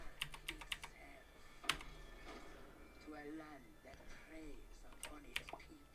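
Computer keyboard typing comes in bursts of sharp clicks, with someone talking quietly between and over the keystrokes.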